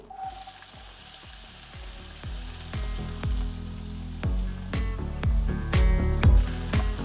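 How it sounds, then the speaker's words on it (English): Chopped onion sizzles in olive oil in a pan while cooking for beef stroganoff. Quiet at first, the popping and crackling grow louder and busier, with no speech. "tablespoon of olive oil in the pan, and then we'll add one chopped onion"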